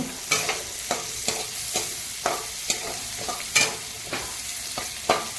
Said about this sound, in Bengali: 2 মিনিট পরে ঢাকাটা খুলে আমি হালকা নেড়ে নেব।